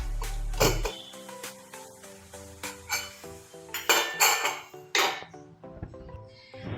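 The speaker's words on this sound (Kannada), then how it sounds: "ಇವಾಗ ಲಿಡ್ ಓಪನ್ ಮಾಡ್ತಾ ಇದ್ದೀನಿ." A pressure cooker lid being opened after cooking mushroom pulao, with a series of close metallic clinks and clanks from the lid and pot, uneven and spaced out, no talking.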